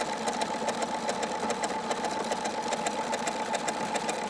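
A sewing machine stitches appliqué alongside existing stitching, a steady, close, fast mechanical whirr with rapid regular needle clicks running throughout, no talking.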